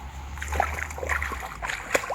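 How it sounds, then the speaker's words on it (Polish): A carp of about 10 kg is let go into shallow water at the bank and splashes several times in quick irregular bursts close by, with sloshing between them. "taki 10 kg karp leci e, do wody"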